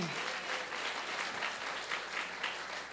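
A church congregation at a Sunday celebration service breaks into steady, dense applause, a continuous wash of many hands clapping together that holds evenly throughout.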